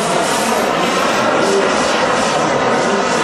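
A giant radio-controlled F-15 model jet with a turbine engine, flaps extended, flies a slow descending pass at a model airfield in Bölsdorf, Germany, its loud steady roar filling the whole stretch without a break.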